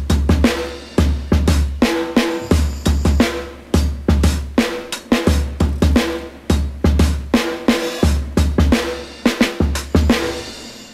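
Programmed break beat drums processed with tape saturation, compression and vinyl emulation, a loud steady groove of punchy kicks, snares and hi-hats repeating in a tight loop with no voices.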